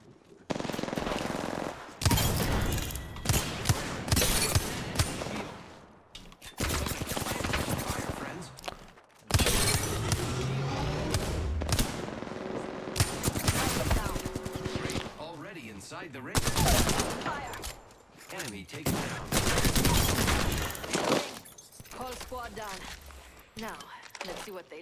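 Rapid gunfire from the Apex Legends video game rattles in dense, repeated bursts almost without pause, with loud talk mixed over the shooting throughout.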